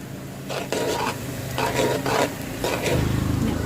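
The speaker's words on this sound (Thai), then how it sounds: "ทอดไปเลยนะคะ เรื่อย ๆ ให้เหลืองกรอบหอมเลยค่ะ" Small whole fish deep-frying in oil until golden and crisp, bursts of bubbling sizzle with stirring scrapes in between, close and fairly loud, no speech.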